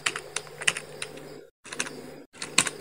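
Fast, close keystrokes on a computer keyboard come in quick bursts of clicks, with two brief pauses where the typing stops completely before resuming.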